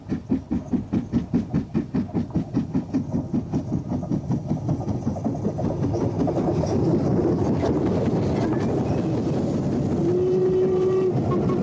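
A Stanier Duchess steam locomotive runs past with strong rhythmic chuffing that is loud and distinct at first, then fades and blurs into a steady rumble of rolling wheels as it moves away.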